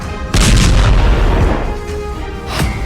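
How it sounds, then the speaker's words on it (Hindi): A sudden loud boom from an Israeli strike near Damascus, Syria, bursts out and rolls into a rumbling decay, with a second sharper thump near the end. "धमाके का दूसरा वीडियो"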